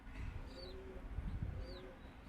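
Small birds call with short whistled chirps over low rumbling background noise, a couple of brief calls spaced apart.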